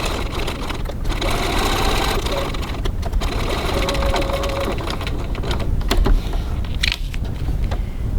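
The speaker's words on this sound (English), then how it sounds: "Now I'm just going to top stitch this top curved edge as well." A sewing machine top stitches along the curved edge of a fabric wallet in short bursts of stitching broken by brief pauses and handling clicks, close by, with no speech.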